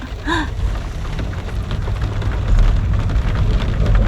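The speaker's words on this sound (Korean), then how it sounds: "봄을 재촉하는 봄비가 내리고 있어" Steady spring rain falls around a sedan parked for car camping at a waterside park in Incheon, a continuous close patter and hiss with no talking.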